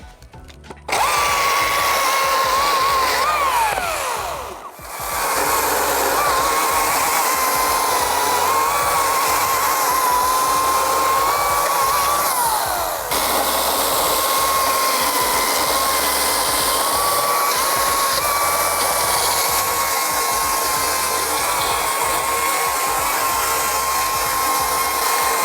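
An EGO 56V 20-inch cordless chainsaw runs loud and close with a steady high electric whine, dipping briefly early on and easing slightly partway through before continuing evenly to the end.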